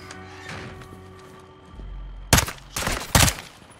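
Gunfire in the Call of Duty Modern Warfare 2 campaign: after a quieter stretch of low rumble and tonal game ambience, two sharp, loud bursts of shots crack out close by, with a brief rumbling tail between them.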